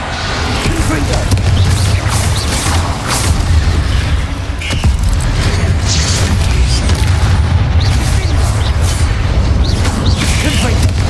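The Confringo blasting spell in Hogwarts Legacy gives loud, booming blasts and crashes over a continuous din of combat, with a voice talking among them.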